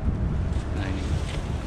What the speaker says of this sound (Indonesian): Kalau dipanen ya, anginnya kencang lagi.